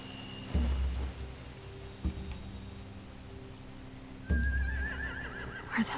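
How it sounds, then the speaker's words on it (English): Horses in The Walking Dead video game give a short whinny near the end, a rising wavering neigh over a low ambient hum with a couple of dull thumps earlier; no talk. "They have horses."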